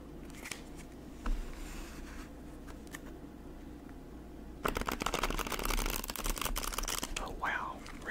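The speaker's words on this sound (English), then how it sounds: "shuffle them just to see how easy they are to shuffle." A dark wood tarot deck is handled and shuffled up close, first with soft scattered card taps and rustles, then a louder, continuous riffling burst of cards in the second half, recorded quietly and intimately.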